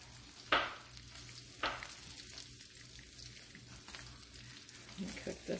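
Breaded chicken cordon bleu frying in a pan, with a steady low sizzle broken by a few sharp scraping stirs and turning sounds, close and moderately loud.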